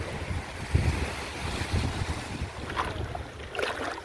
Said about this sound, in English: Lovely Monday morning at the beach.